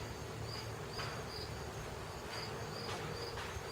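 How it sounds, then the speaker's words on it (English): Faint, steady buzzing of bees close by in a garden plant, with a soft high chirping pulsing through it. "there's lots of them buzzing around in there"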